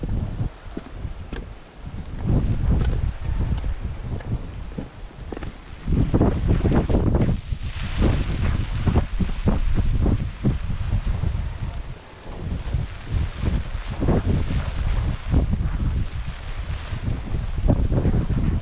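Strong gusty wind roars against the microphone with rustling and a steady wash like rain or surf, loud and continuous.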